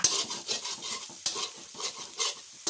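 Eggs sizzle and scrape in a hot wok greased with pork lard as a utensil stir-fries them in quick, irregular strokes, close and fairly quiet.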